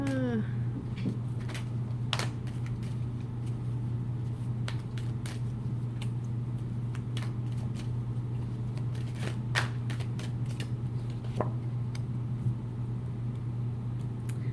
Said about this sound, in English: These are a little hard to shuffle.